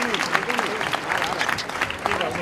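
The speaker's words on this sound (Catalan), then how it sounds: "Un aplaudiment per ella" An audience at a homecoming celebration for Nani Roma in Folgueroles claps in a dense, lively round of applause, with voices chattering and calling out over the clapping for the whole stretch.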